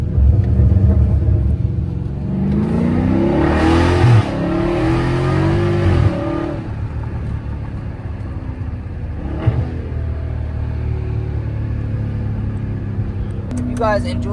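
A Dodge Challenger Scat Pack accelerates hard with a loud, close engine roar that climbs in pitch for several seconds, then eases into a lower steady rumble, while a voice briefly talks over it.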